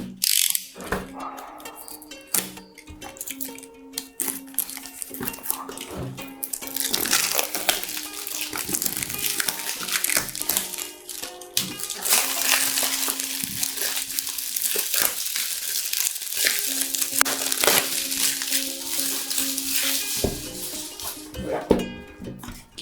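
Unboxing of a CCTV camera package: steady rustling and crinkling of packaging with clicks and scraping of cardboard and plastic, close and fairly loud, continuous throughout with no talking.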